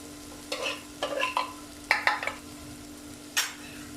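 A pan of boiled, mashed vegetables for pav bhaji being stirred and scraped, with several distinct scraping strokes in quick bursts over a faint steady hum, close and moderately loud.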